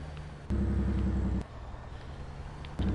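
A truck's Jake brake in Farming Simulator 2019 fires in short bursts, a close, harsh, rapid engine stutter that cuts in and out over a low idling rumble.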